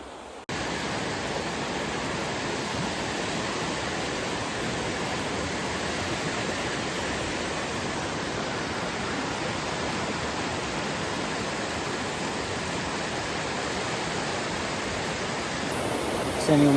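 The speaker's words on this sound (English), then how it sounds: "Standing on the bridge over Horse Pasture Creek" Horse Pasture Creek rushes beneath a wooden trail bridge in a continuous, loud, broadband roar that holds steady throughout with no talking over it.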